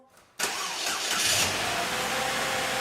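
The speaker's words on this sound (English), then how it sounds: "First thing you want to do is to start your vehicle" A car engine cranks and catches after a short quiet moment, then settles into a steady, close idle rumble.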